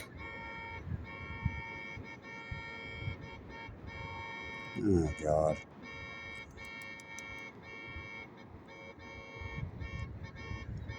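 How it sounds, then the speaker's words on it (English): A car alarm sounds near a pier, a steady electronic tone with a brief louder warbling burst in the middle, while someone talks and swears over it. "Somebody's fucking car alarm went off."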